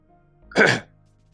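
A single short, rough throat clearing from a sick person, fairly close, set against near silence.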